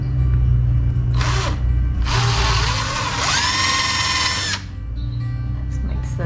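A handheld power drill whirs loudly up close while boring a tiny pilot hole dead center in a toe kick drawer front in a van build, with speed changes as the bit bites and a steady hum underneath.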